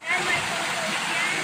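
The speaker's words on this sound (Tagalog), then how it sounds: "yung pagaspas o lagaslas ng tubig" Steady rushing water fills the clip, a continuous broadband wash of a stream flowing nearby at Vigo Dam, Lubang, Occidental Mindoro, with faint voices underneath.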